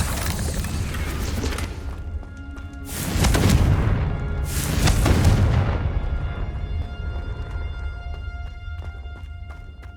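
Confringo spell blasts in the Hogwarts Legacy game, two heavy swelling explosions a couple of seconds apart over ongoing combat clatter and rumble, loud and close.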